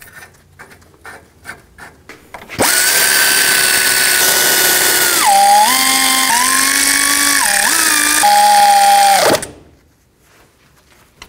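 A power tool runs in one loud sustained burst of about seven seconds, its pitch dipping and shifting as it drives wheel hub bolts on a 2007-14 GMC Sierra 3500HD, then cuts off to quiet.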